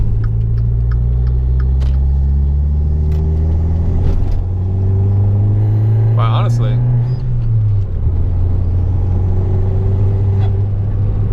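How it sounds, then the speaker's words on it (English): A Dodge Dart with a 1.4L turbo engine drives along with a loud, close engine drone that rises and falls as it shifts and accelerates, while someone talks over the cabin rumble. "the car runs amazing."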